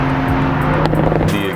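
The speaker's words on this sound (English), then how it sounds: "The exhaust note on this is incredible." A 2020 BMW Z4 roadster driving on a misty day, its exhaust a continuous, loud, throaty hum with steady engine tones and some road and tire noise, no talking.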